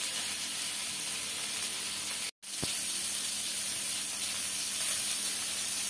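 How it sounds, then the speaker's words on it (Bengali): Ridge gourd and pointed gourd fry in leftover fish-frying oil, giving a steady, loud broadband sizzle that runs throughout with one brief drop to silence near the middle. "মাছ ভাজার তেলে তরকারিগুলো দিয়ে দিলাম।"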